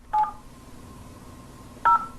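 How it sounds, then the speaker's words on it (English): An internet-connected phone plays two short, clear dialing tones about a second and a half apart, each a brief steady beep over faint background hum. "The phone, connected to the internet, dials just like a regular phone."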